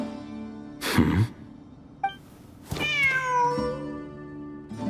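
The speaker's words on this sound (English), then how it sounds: "Wait, there it is! The cat!" A cat in the Genshin Impact video game gives a short meow, then a longer drawn-out one, close and clear over a soft, sustained musical background.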